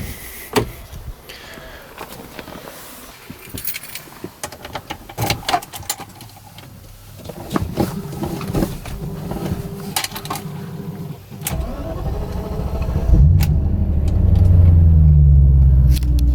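A BMW 730i left unstarted for three to four months cranks and fires up near the end, settling into a loud, close, steady rumbling idle after earlier handling noises and a door.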